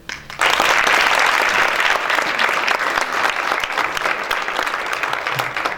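Sustained applause from an audience at an anti-racism essay competition publication launch, starting abruptly and staying loud and dense throughout, with faint voices under the clapping.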